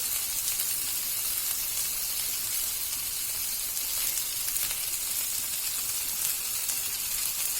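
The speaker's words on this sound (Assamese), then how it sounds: "মাছটো এনেকৈ ফ্ৰাই কৰি আছোঁ" Fish frying in a pan without oil for an Assamese dish, a steady close sizzle and crackle with broadband hiss running unbroken throughout, no voices.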